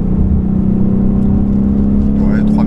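Ford Mustang GT V8 engine droning steadily under acceleration, a loud continuous hum that holds even and builds smoothly, with a voice talking over it inside the car.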